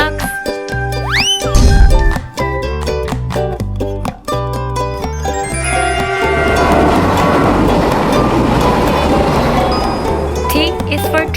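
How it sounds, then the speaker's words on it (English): A wood burner train rolls along rails, a loud rumbling chug building and sustaining after sharp tonal chimes and whistle-like notes at the start. "T is for train. It's a wood burner train."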